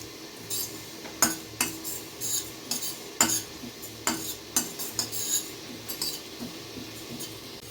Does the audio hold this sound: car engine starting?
no